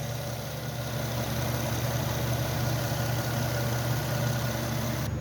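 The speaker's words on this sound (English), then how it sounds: "Okay, shot of the exhaust with the motor running." A 2013 Nissan Murano's engine idles steadily near the exhaust, an even low hum with no changes in revs and no one talking.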